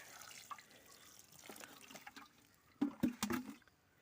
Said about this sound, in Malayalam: അതുപോലെ തന്നെ ഇതിലും നമുക്ക് വെള്ളം ഒഴിക്കാം